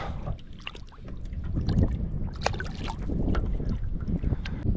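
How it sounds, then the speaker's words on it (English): Strong wind buffets the microphone in a steady, loud roar with gusty rumbles, mixed with faint water splashing at a bass fishing spot; nobody speaks. "this wind is really bad, and that's probably all you hear"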